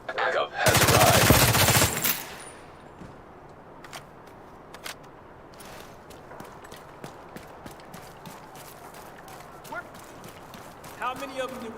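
Gunfire in The Division 2 set in New York City: a loud, dense burst of rapid automatic fire lasting over a second opens the scene, followed by scattered sharp single shots and clicks over a quieter stretch, with a voice talking.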